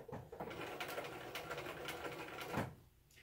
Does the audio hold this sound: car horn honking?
no